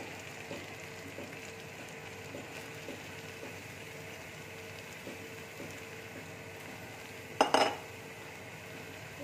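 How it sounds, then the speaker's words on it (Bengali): Cabbage is stir-fried with spices in a pan, heard as a steady rhythm of light metal clicks and scrapes from the utensil, with one louder clatter near the end and no voices. "বাঁধাকপিটাকে আমি মশলার সাথে খুব ভালো করে ভেজে নিই"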